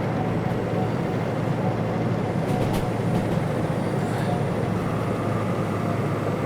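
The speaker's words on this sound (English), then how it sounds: "Yep, engine braking definitely needed." A BR Class 03 (DM3) shunting locomotive in the Derail Valley simulator rumbles steadily downhill under engine braking, a constant loud drone with faint high squeals.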